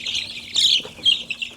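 Young meat chickens in a brooder crowd around a feeder, pecking at one bird, with several near, soft chirping clucks in short irregular bursts.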